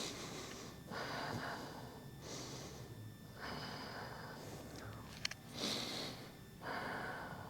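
Slow, steady breathing through the nose, with soft repeated inhales and exhales in a quiet, close setting, no talking.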